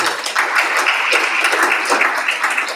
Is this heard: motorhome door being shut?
no